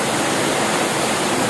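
Steady, dense roar of a mountain waterfall close by, a continuous broadband rush of falling water with no pauses, no voices and no other sounds.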